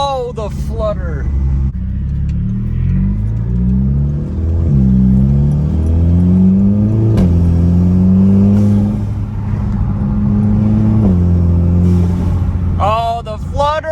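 Bagged Audi fitted with a new intake accelerating on the road, engine rising and falling through several gear changes, with turbo flutter bursts at the start and end, and speech briefly heard over it.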